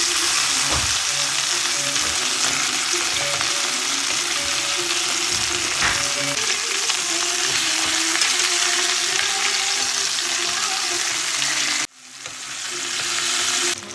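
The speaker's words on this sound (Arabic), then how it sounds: "ونقليه بهذا الزيت حتى ياخذ لون حلو." Chicken pieces frying in hot oil give a loud, continuous crackling sizzle up close with occasional stirring clatter, briefly dropping off near the end before building back.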